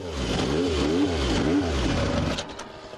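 A race motorcycle engine at the 1996 Isle of Man TT revs loudly in rapid, rising and falling bursts, close by, then briefly drops off near the end.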